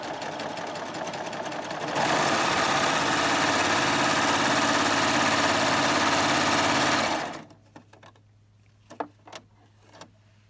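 A serger runs a steady, loud 4-thread overlock stitch along elastic for about five seconds, then stops, leaving a low hum and a few small clicks and taps.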